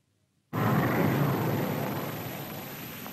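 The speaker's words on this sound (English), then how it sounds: "As the B-45 heads out of the Albuquerque sunrise" A B-45 jet bomber roars into loud, steady noise right after a moment of silence and holds as a broad, sustained rumble that fades only slightly as it flies on.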